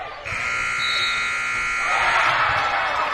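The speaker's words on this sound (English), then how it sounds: "McKenna Bauman throws one up from about 15, 16 feet at the buzzer." A loud, steady electronic buzzer blares in a gym at the end of a high school basketball game, holding a sustained tone for about two seconds before crowd noise and a broad roar take over.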